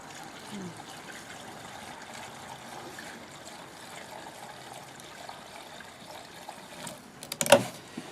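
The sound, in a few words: gasoline pouring through a makeshift funnel into a snow plow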